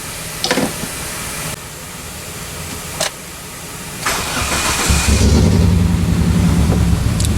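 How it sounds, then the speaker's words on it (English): Car engine with a misfire cranking and catching, a few sharp clicks and bursts before settling into a rough, uneven idle that grows louder and fills the last seconds. "Yeah, it's still misfiring."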